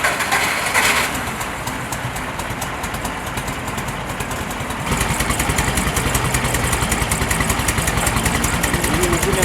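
The engine of a modified VW Beetle runs in a steady, rumbling idle with a rapid, even pulse, close and continuous, and grows somewhat louder and rougher partway through.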